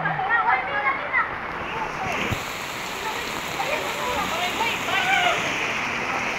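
Flood water rushes through a village barangay in a broad, steady roar with splashing, close and loud throughout, while people talk over it.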